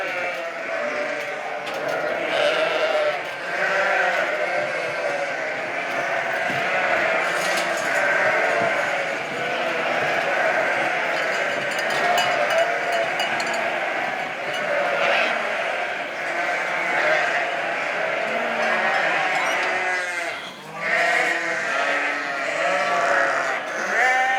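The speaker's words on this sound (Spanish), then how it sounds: "Vamos a sacar estas ovejas que ya están esquiladas y meter ovejas" A flock of sheep bleating loudly and continuously as they are moved between pens at shearing time, many overlapping calls close by.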